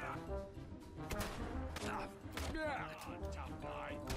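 A converted crude rifle loaded with shotgun shells fires in the video game Fallout London, several sharp gunshot bursts spaced irregularly over a few seconds, with a voice talking between and over the shots.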